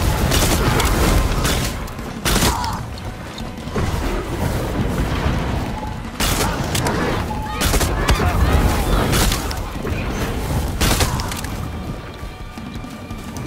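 Automatic SMG gunfire in Far Cry 6 gameplay, loud, dense bursts that keep going across the whole stretch, mixed with booms and crashes and with talk running over the action.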